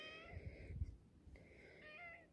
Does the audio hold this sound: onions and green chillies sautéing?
no